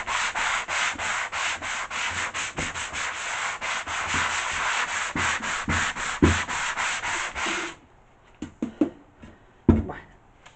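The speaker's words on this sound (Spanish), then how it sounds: "lijamos un poquito la chapa" A thin wooden veneer sheet is sanded by hand in a restoration workshop, with loud rhythmic back-and-forth rasping strokes for about eight seconds, then a few quieter scattered rubs and taps.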